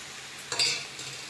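Onion and tomato cooking together in a pan for a chicken curry: soft steady sizzle with a single brief stirring scrape in the middle, close but quiet, no voices.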